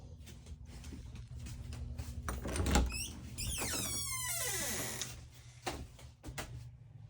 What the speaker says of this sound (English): slider door